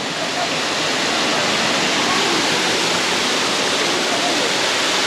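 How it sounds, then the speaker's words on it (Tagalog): A small waterfall at Balagbag Falls in Quezon gives a steady, full rush of falling water that continues evenly and fairly close throughout. "May mini falls din dito."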